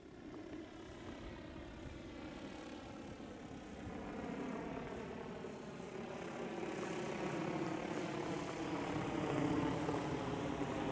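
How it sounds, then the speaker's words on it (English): A DJI FlyCart cargo drone flies nearby, its propellers giving a steady droning hum with a banded buzz that swells slightly louder toward the end, with no talking over it. "And it's flying just like any other DJI drone would fly."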